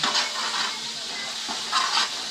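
Steady bright sizzling hiss of spices and curry leaves frying in hot oil for village-style chicken, with brief louder crackling bursts near the start and end.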